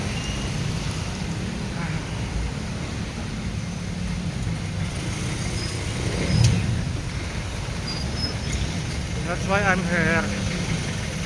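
Road traffic along a busy barangay street in the Philippines, a steady low rumble of idling and passing vehicles with a brief louder pass near the middle, while someone talks over it.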